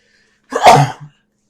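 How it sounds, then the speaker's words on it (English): A single loud, close sneeze bursts out abruptly after silence and ends quickly. "I'm going to sneeze."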